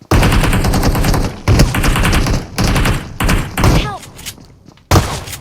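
Rapid bursts of heavy gunfire in the battle game PUBG Mobile, loud and close, coming in repeated clusters with short gaps and booming thuds, as players talk over the shooting.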